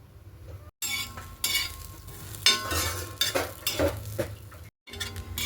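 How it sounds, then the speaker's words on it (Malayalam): Close-up pan stirring with a spatula scraping and clinking, and a low sizzle of coconut dry-roasting underneath, pausing briefly twice. "തേങ്ങ മാത്രമാണ് ഇപ്പോൾ നമ്മൾ വറുത്തുകൊണ്ടിരിക്കുന്നത്"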